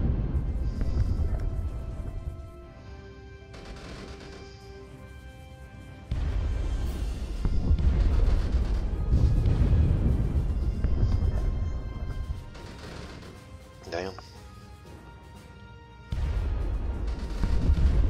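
Planetary bombardment in the space strategy game Sins of a Solar Empire: Rebellion, a steady rumbling barrage of heavy booms and impacts that rises and falls in intensity, with no voices over it.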